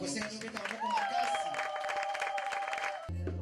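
A crowd claps and cheers over sustained music, and the applause carries on steadily until it cuts off abruptly.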